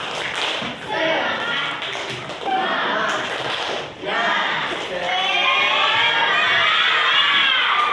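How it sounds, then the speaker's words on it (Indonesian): A classroom of students performs a tepuk semangat clapping chant, bursts of rhythmic claps and shouted children's voices coming in waves with brief pauses between, the group growing louder and steadier at the end. "Baik, tepuk semangat, tepuk semangat."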